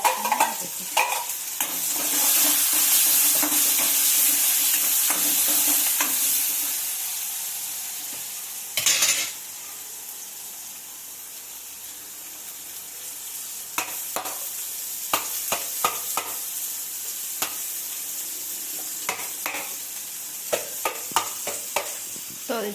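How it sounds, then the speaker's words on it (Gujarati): A Gujarati tempering (vaghar) of spices and sesame seeds sizzles in a pan for handvo, a loud continuous crackle that fades midway, then returns with light stirring clicks, close by. "આ બાજુ વઘાર કરે છે."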